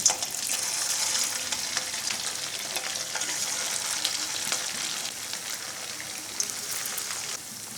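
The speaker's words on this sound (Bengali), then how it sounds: "এই যে এখন আমি এই নাস্তাগুলো ভেজে নেব।" Potato and semolina snacks frying in plenty of hot oil, a steady dense crackling sizzle running throughout with occasional louder pops, close and continuous with no talk.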